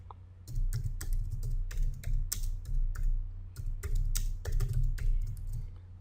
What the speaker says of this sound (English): you just type in